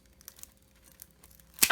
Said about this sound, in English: I'm going to cut off this side right